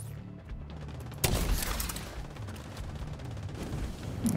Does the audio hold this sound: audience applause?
no